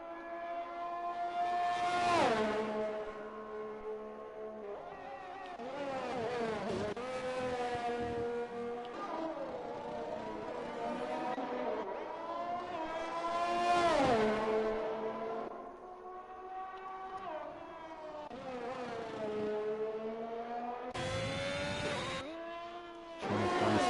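F1 2021 race cars at the Belgian Grand Prix, engine notes whining up and down through gear changes as cars pass and accelerate, with several rising and falling sweeps over the run.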